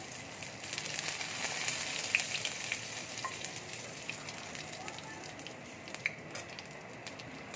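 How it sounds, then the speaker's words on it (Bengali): Chili, bay leaves and whole cumin crackle in hot oil for a Bengali coconut chana dal, a steady bright sizzle with scattered pops and spits throughout, fairly close and alone with no talk. "লঙ্কা, তেজপাতা, গোটা জিরে ফোড়ন দিয়ে দেবো।"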